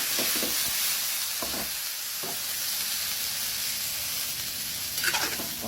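Pork ribs for sinigang sizzle in a hot pot with a steady, bright hiss and frying crackle, with a few soft clinks of stirring near the start and end.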